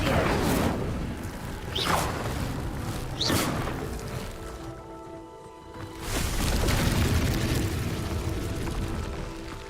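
Incendio fire spell cast in Hogwarts Legacy, with several loud whooshing fiery bursts and a rumbling blast that swells again after a short lull, with no talk over it.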